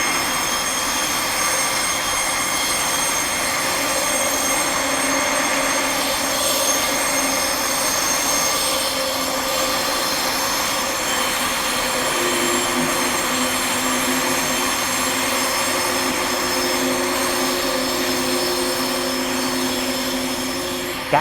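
A suburban train between Midland and Thornlie in Perth rumbles past loudly and steadily with sustained metallic wheel squeal and whine, no voices, continuous for the whole stretch.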